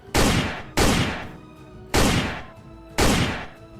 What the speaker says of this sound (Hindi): बाइक सवार बदमाशों ने ताबड़तोड़ गोलियां चलानी शुरू कर दी।